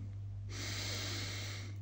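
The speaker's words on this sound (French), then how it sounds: "On inspire par le nez" A slow, deep inhale through the nose during a guided relaxation breathing exercise, a soft airy rush rising midway over a steady low hum, close and quiet.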